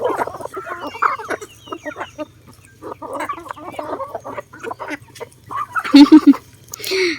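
Chickens at a backyard coop cluck and squawk while being fed treats. The calls come in short, close bursts with gaps between them, growing louder and busier toward the end.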